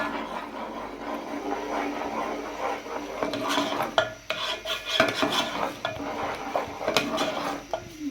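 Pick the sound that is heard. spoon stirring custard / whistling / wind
spoon stirring custard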